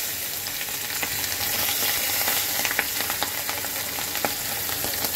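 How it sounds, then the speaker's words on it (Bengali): Golsa fish frying in hot oil in a wok, a continuous close sizzle with scattered crackling spatters and no voices. "মাছটা ভাজা হোক"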